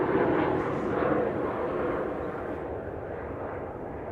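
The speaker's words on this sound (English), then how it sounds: "Aeromexico Connect, Embraer 190 coming in from Mexico City." An Aeromexico Connect Embraer 190 jet arrives at DFW Airport with a steady, broad roar of engine noise that eases gradually as it passes at moderate distance.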